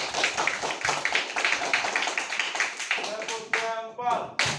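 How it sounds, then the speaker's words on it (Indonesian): Children clap their hands together in a classroom, a steady run of quick, close claps that thins out and ends in a few scattered claps, with voices mixed in. "tepuk tangan dulu"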